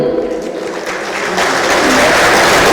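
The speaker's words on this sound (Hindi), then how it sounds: "So a big round of applause for every woman." An audience at an International Women's Day event on women's empowerment breaks into applause that swells and turns full and steady for the final second or so.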